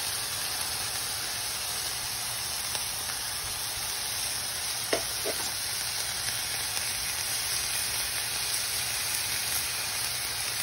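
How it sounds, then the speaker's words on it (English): Garlic sizzles in a little hot oil in a pan while ratatouille is being cooked, a steady loud hiss of frying that holds for the whole stretch. "add a little bit of oil, and then I add my garlic"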